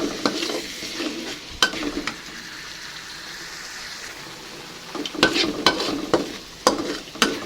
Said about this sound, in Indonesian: Kita tumis sampai bumbunya benar-benar matang